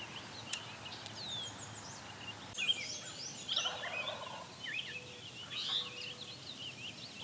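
Wild turkey gobblers in Maine gobble in repeated rattling bursts at a moderate distance outdoors, with several overlapping calls and no talk.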